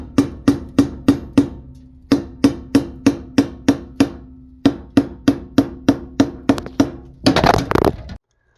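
Hammer blows drive a pipe hanger into place overhead for a gas dryer's black pipe run, sharp ringing strikes in three quick rhythmic bursts, close and loud, ending in a short scraping rattle.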